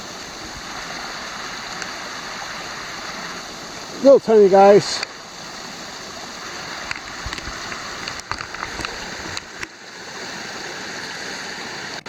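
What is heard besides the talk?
small waterfalls on a creek along a trail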